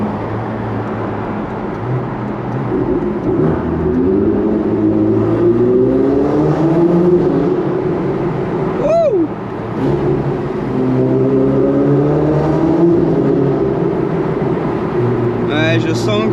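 A Ferrari Pista in race mode revs hard inside a tunnel, its engine rising and falling in loud, echoing sweeps with a couple of sharp upshift peaks, while someone talks over it.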